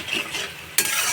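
Bhola fish curry sautéing in a pan as mustard water is added, a close, bright hissing sizzle that suddenly flares louder partway through.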